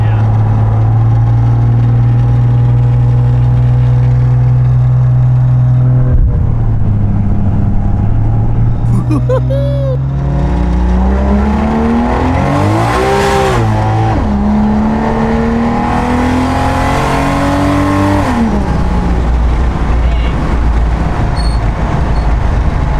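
A turbocharged 2JZ car engine revs hard and loud, pitch climbing and dropping through gear changes, with a turbo whoosh rising as it accelerates.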